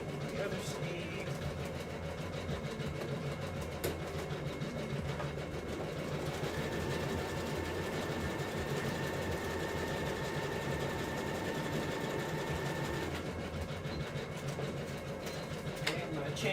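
A sewing machine runs a reinforcement stitch along a sleeve seam, a continuous fast mechanical whir at moderate volume lasting the whole stretch, with a thin steady tone joining partway through.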